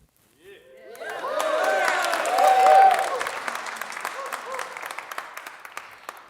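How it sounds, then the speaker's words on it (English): An audience at a live seminar breaks into applause, swelling quickly to a dense wave of clapping with cheers and whoops, then thinning out into scattered claps. "Now, I know for a fact that you guys were clapping."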